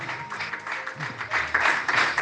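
A church congregation claps during a sermon, steady applause that swells toward the end, moderately distant and fairly soft.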